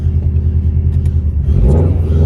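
A heavily modified Subaru Forester XT making over 500 horsepower drives along with a loud exhaust, a deep, steady engine drone heard from inside the cabin that swells as the car accelerates.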